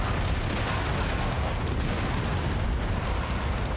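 Dense, continuous roar of weapon fire and explosions from a mech combat battle in the video game Mechwarrior 5, loud and unbroken throughout with no gaps or talk.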